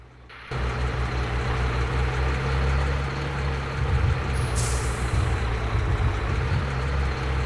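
A heavy truck idles at a gas station with a steady, close, low diesel rumble, and a short high air-brake hiss bursts out about midway.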